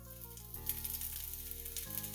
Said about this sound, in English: This should start to sizzle.